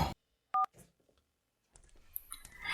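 A telephone being dialed gives a single clear keypad tone, followed by faint clicks and some quiet handling noise nearby.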